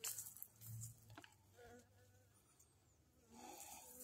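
Bees buzzing around a person right after a hive treatment, faint close drones fading in and out, with one passing near at the start and again at the end.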